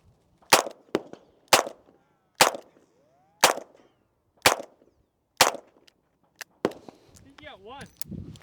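A Glock pistol fires at range targets in about seven sharp, loud shots with roughly one-second gaps, each cracking clearly over quiet surroundings, followed by fainter clatter and a brief voice.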